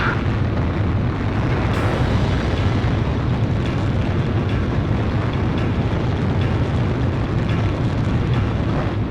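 Bombing explosions in the air-combat video game Ace Combat Zero make a loud, continuous, dense rumbling roar of blasts that runs unbroken throughout, with no talking.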